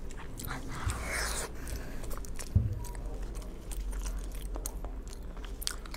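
Wet, crunchy chewing of fatty meat during a Chinese mukbang eating session, with close, steady mastication sounds over a constant background hum and a couple of low thumps.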